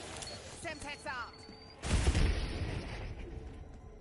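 A Semtex grenade in a Call of Duty Zombies match bursts in a single loud, low boom midway, the rumble fading over a couple of seconds after some faint high chirps and clicks.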